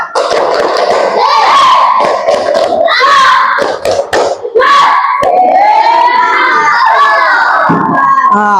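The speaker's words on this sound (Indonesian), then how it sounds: "coba kita tepuk semangat terlebih dulu ya, agar kita semangat" Schoolchildren in a classroom doing a tepuk semangat chant, loud rhythmic clapping mixed with shouted chanting voices in patterned bursts, close and energetic.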